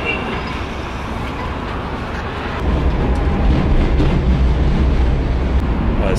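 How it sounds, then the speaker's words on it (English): A tram runs on its rails through a Kyiv street, a steady low rumble that swells louder partway through as the car picks up, with no talking. "we decided to take the tram"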